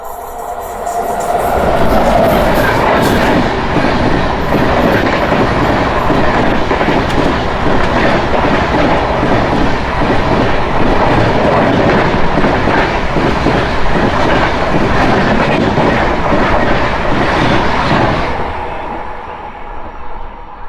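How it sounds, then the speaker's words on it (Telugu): Express train 12756, Bhavnagar Terminus to Kakinada Port, thunders past Srirampuram station with a loud, continuous rumble and rapid clickety-clack of wheels lasting nearly twenty seconds before suddenly falling away. "12756 వస్తుంది భావనగర్ టెర్మినస్ నుంచి కాకినాడ పోర్ట్ వరకు వెళ్ళే ఎక్స్ప్రెస్ ట్రైన్"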